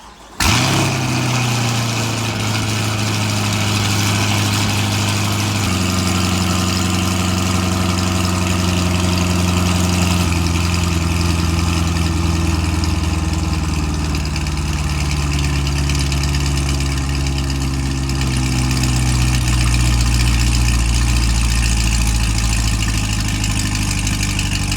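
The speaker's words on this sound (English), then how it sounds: "let's go out and see how the stock exhaust sounds first" C8 Corvette with its stock exhaust in track mode, starting up with a sharp bark and then idling with a loud, deep, steady rumble, close and continuous with slight shifts in pitch.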